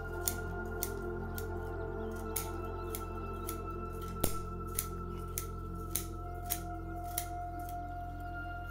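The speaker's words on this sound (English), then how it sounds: "that gives me the luxury of pruning a lot of the roots" Scissors pruning the roots of a ligustrum bonsai, a series of sharp, close snips about every half second over a steady low background hum.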